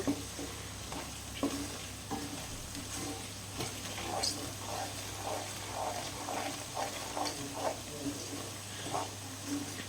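Mango pickle masala being stirred in a pan over a low flame, with soft repeated scraping strokes and a faint sizzle running steadily underneath, close up.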